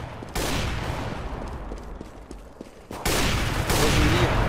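Rapid bursts of gunfire crackle loudly in the video game CS:GO on the map Nuke, a sustained volley at first, then a brief lull before another heavier burst takes over.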